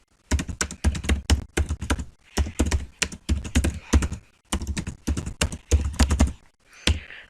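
Quick bursts of computer keyboard typing, close and crisp, run in rhythmic clusters with brief pauses between them while someone enters crossword puzzle questions.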